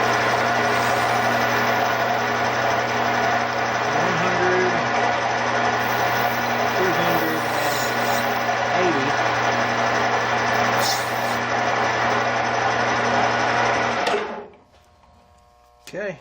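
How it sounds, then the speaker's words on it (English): A machine runs steadily with a high, layered whine as a slightly tapered bit bores a hole in metal, the tone wavering with the feed before the motor winds down and stops near the end. "this bit has a slight taper, so I'm gonna feed across when I get it at the bottom of the hole."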